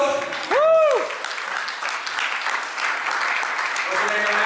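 Audience applause for a child invited up at a live event, broad and steady throughout, with a loud whoop of a voice near the start.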